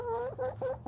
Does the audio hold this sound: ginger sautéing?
no